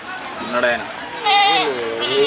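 Goats bleat at a goat market, Kunta Bakra Mandi: a few wavering, nasal cries close by, among the busy murmur of the market.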